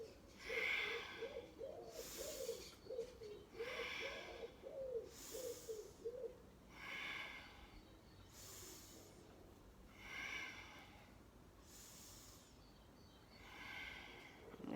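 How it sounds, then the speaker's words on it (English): Slow, deep breaths during a yoga breathing exercise that rounds and arches the spine, recorded outdoors, heard as repeated soft airy inhales and exhales, about six cycles, close and faint. "what we're basically doing is breathing in, breathing out"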